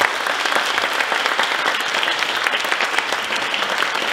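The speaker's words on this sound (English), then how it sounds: "Another round of applause, please." Dense, steady applause from an audience at a young folk night at the Mull of Kintyre music festival, filling the whole stretch at an even, loud level after young performers from Tarbert finish.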